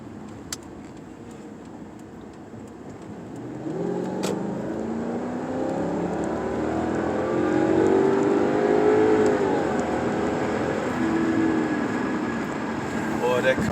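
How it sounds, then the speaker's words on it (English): Lexus V8 engine rumbling as the car accelerates onto a highway, a low steady drone rising in pitch through the gears, with road noise heard from inside the cabin. "So now I'll get on this highway so you can hear this V8 rumble."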